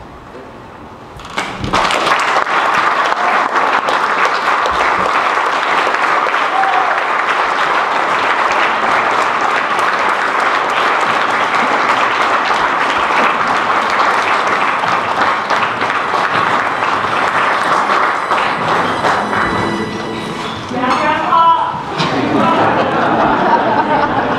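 A Ventura County Educators Hall of Fame induction audience applauds and cheers an inductee, loud sustained clapping with whoops and chatter that fills the room, briefly dipping before swelling again.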